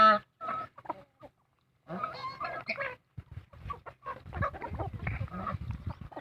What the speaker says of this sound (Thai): ไก่หนุ่มไก่สาวไก่แม่พันธุ์